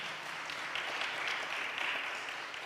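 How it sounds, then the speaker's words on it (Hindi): Soft, steady applause from a congregation at a Friday prayer meeting welcoming children, with continuous clapping at a moderate distance and no clear speech. "बच्चों के लिए ज़ोरदार तालियों में वेलकम करते हैं एक बार फिर।"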